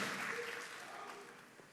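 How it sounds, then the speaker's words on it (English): Applause from an audience for a high school marching band and drumline at a district address, a continuous wash of clapping that stays fairly steady and moderately loud before easing slightly. "Let's give them another round of applause."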